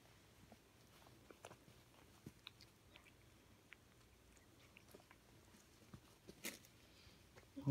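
A young puppy chews and bites on a toy monkey, producing faint, irregular soft gnawing clicks and small crunchy taps spread across a quiet room, with a slightly louder flurry near the end.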